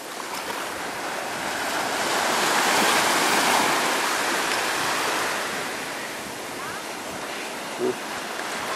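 Small sea waves wash and break steadily on a beach at Águilas, Spain, a continuous broad surf roar swelling and easing with wind noise over the microphone, no voices.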